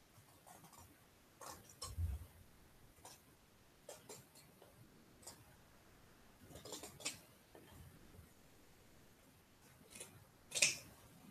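Scissors snip through craft material in a quiet room, giving a few scattered, faint clicks and cuts with one sharper snip near the end, with no talking.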